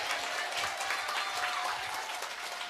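Dense, continuous applause from an audience at a Korean political rally speech fills the space with many hands clapping at once, steady and fairly loud throughout.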